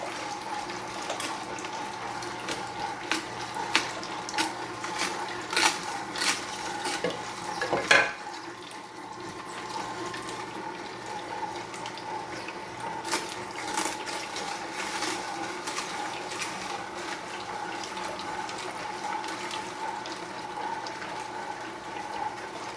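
A Tribest Slowstar slow juicer grinds produce in a long, fairly quiet churn with crackling, squeezing pops and a faint steady hum, picking up briefly before settling into a more even grind.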